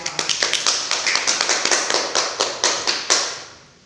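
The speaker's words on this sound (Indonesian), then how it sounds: "Tepuk tangan untuk kita semua." Classroom students clapping together, a quick series of about fifteen sharp, close claps in a loose rhythm that picks up, then stops, leaving a short decaying tail.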